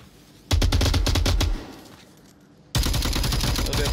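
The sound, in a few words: gunfire in the VR video game Onward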